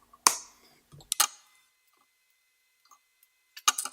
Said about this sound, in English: Since I can't solder jumper wires, I'm going to have to cut some of my own.